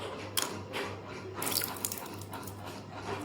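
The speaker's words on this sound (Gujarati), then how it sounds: "આપણે શંકર ભગવાનને અત્યારે પાણી ચડી રહે છે" Water is poured over a homemade Shiva lingam, giving soft trickles and drips with a few sharper splashes against a low steady hum, close and fairly quiet.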